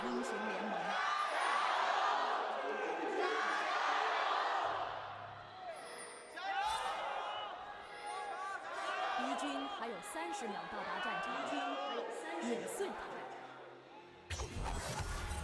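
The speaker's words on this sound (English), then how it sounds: "The crowds yell for a final time today." Esports arena crowd at an LPL playoff match between IG and FPX, yelling and cheering in a sustained roar that swells and dips, with a commentator talking over it.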